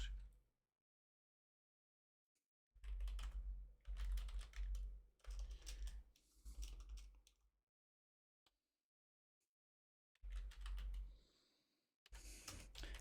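Bursts of typing on a computer keyboard, close and clear, with rapid clattering keystrokes in several runs separated by pauses of near silence.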